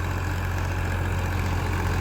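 A tractor fitted with a new 2.5 lakh rotavator from Daska runs at a steady idle, a close, constant low engine rumble with an even throb and no voices.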